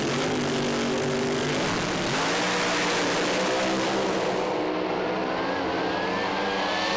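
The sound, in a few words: drag racing cars revving engines at start line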